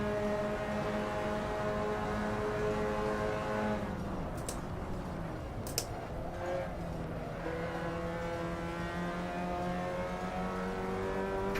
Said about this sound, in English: I'm so slow in this MX-5.